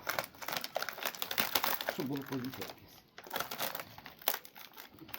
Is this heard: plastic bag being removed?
yes